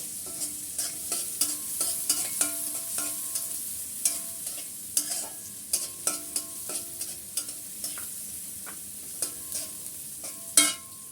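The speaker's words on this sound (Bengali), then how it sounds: "এখানে কিছুটা পেঁয়াজ কুচি করে দিয়ে দিলাম একটু আমি তেলের উপর ভেজে নিচ্ছি পেঁয়াজটা" Chopped onions frying in oil, a soft steady sizzle under frequent clicking and scraping spoon strokes against the pan, with a sharper clatter near the end and no speech.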